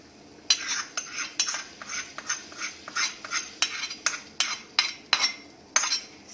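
Metal spoon stirring a cumin and black pepper tempering in a small pan before it goes into a vegetable soup, a series of clear clinks repeating roughly every half second, close and alone.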